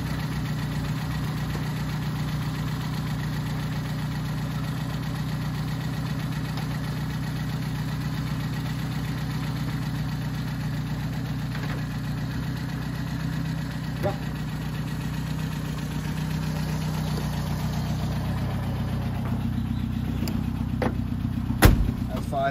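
A 1965 Fiat 1100 with a 1.1-litre engine and column-shift manual idles steadily and close by for the whole stretch, with a few sharp clicks and knocks near the end.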